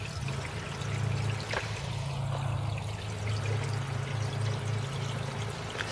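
Backyard waterfall spilling into a newly built garden pond, a continuous close splashing and trickling pour with a steady low rush underneath and no voices.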